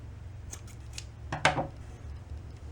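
Scissors snip crochet yarn after it has been worked under stitches: a few faint opening clicks, then one crisp, close cut in a quiet room.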